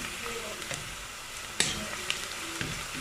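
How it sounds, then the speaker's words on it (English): Onions fry in an oil-filled pan for Ghana jollof rice, giving a soft steady sizzle with a few sharp clicks of utensils, close and fairly quiet. "my onions have been on fire for about 1 minute now, and they're starting to turn brown"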